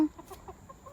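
Chickens cluck softly in short, scattered bursts, fairly quiet and close, with no one talking.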